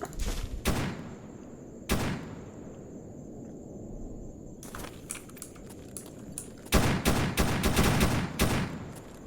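Scattered gunfire from a stalker in the game Escape From Pripyat, with bursts of sharp shots at the start, a single volley near two seconds, then a denser run of rapid reports later, set against steady background ambience.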